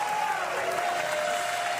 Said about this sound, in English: The crowd hasn't stopped.